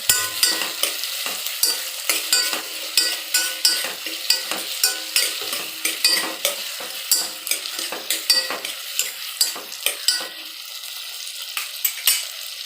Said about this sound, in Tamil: 2 தக்காளி இதை நல்லா வதக்கிக்கணும்